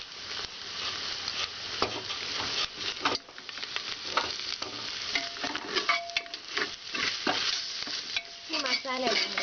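Masala with chilli powder, turmeric and salt sautés in a pan for chicken biryani. Loud stirring scrapes and a steady sizzle run throughout, close by with no talking.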